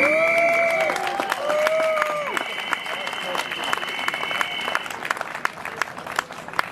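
An outdoor crowd at a rally on a town market square applauds with sustained clapping and some whistles and cheers, thinning toward the end into scattered claps.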